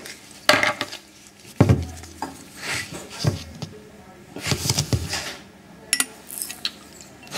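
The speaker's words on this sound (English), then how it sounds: "I'm going to add now just a few spatula measures of the anhydrous sodium sulfate" A spatula scrapes and taps as anhydrous sodium sulfate is scooped into a glass flask in a chemistry lab, with a few sharp clinks and soft rattles at close range and quiet gaps between them.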